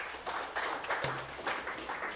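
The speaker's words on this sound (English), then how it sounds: "round of applause, please" A small group at a state training session applauding a volunteer called up front, scattered moderate clapping that rises and falls over a couple of seconds, with a brief low tone partway through.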